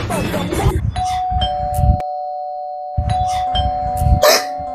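An electronic doorbell chimes twice, each a sustained two-tone ding that rings on, with voices talking around the chimes.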